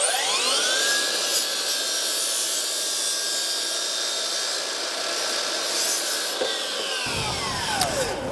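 A Dewalt 54V 305mm cordless mitre saw cuts through wood with a loud, steady high whine from the blade for about seven seconds, then spins down after it clears the piece.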